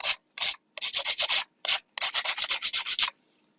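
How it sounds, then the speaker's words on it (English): A nail file rasps rapidly back and forth across a fingernail in quick rhythmic strokes, grouped in short bursts with brief gaps, close and crisp. "get by with a little bit of hand filing"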